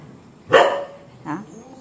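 A brown dog barks twice from a short way off in a home yard, a sharp, loud woof followed by a softer second bark over a quiet background.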